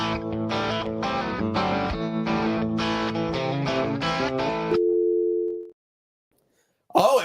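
A FaceTime video call ringing tone plays as a series of loud, evenly spaced electronic pulses for nearly five seconds, then a brief steady tone and silence before a voice cuts in.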